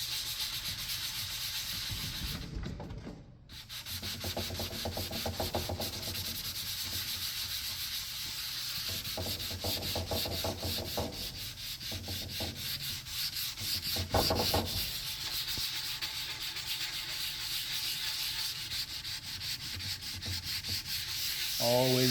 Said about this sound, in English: When we get to this spot here, I'll do the orbital real quick, and we'll try to do that in real time.